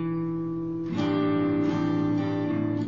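An acoustic-style guitar picks notes from a song, with a sustained ringing chord and a fresh pluck near one second, played close and alone without talking.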